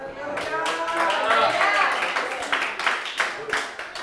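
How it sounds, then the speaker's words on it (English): A church congregation claps along in uneven, rhythmic bursts, the hand claps mixing with a voice speaking over them and scattered louder claps toward the end. "yeah, give a hand clap for that."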